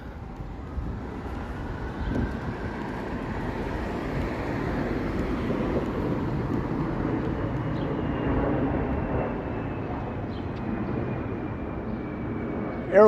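A steady, broad roar from an airliner passing over the city holds for the whole stretch, with a faint descending whine on top, continuous and moderately distant.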